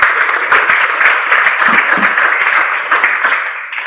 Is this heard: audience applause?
yes